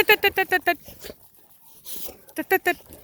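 Several excited dogs bark and yip in quick bursts close by, with a person's voice mixed in amid panting and whining between barks.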